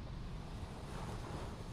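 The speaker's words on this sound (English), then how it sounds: "water churning" Waves churning and washing in a continuous broadband roar, with wind across the microphone; steady and fairly close with no breaks, no voices.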